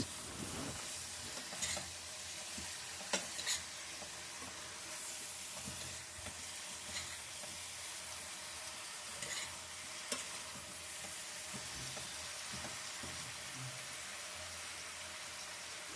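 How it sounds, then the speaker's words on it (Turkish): Eggplant sautés in a pan, a close, steady sizzling hiss broken by occasional scrapes and knocks of stirring throughout, with no voices. "İki üç dakika kavuruyoruz patlıcanla birlikte."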